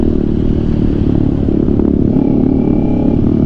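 Big-bike motorcycles, including a BMW GS 1000 and a 400cc machine, ride close around a Ninja 500SE, making a loud, continuous engine roar with rattling clatter and wind noise.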